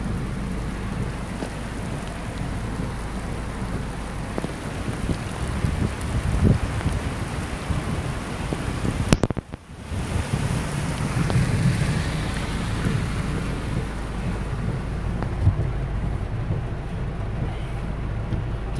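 Heavy rain pours steadily and loudly during flash flooding at Brassall, Ipswich, with a low rumble of thunder and a sharp crack midway through the steady downpour.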